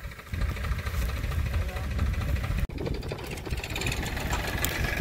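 A tractor engine runs steadily on a village farm, its low rumbling drone continuous throughout with a brief dropout midway, and a voice faintly underneath.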